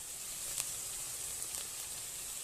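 Spice paste with a little sugar frying in a pan for an egg curry, a steady close sizzle and hiss throughout with a few faint stirring ticks, no voices.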